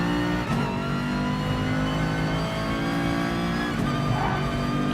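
Car engine in Gran Turismo Sport heard from the interior view, a loud steady drone with shifting revs and faint tire squeal, running alone throughout.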